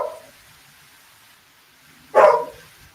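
A single close, loud dog bark rings out once after a quiet stretch, standing alone with no talk around it.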